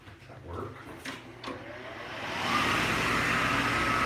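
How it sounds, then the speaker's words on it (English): An ancient hand dryer in a retro bathroom of a derelict building starts up after a few faint clicks and knocks, then blows as a steady, loud, close whooshing roar. "Retro bathrooms with ancient hand dryer."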